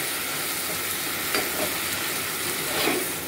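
Spice paste with Kashmiri chilli hits a hot pan of tomatoes and onions, giving a steady close hiss of frying and sizzling with light stirring scrapes.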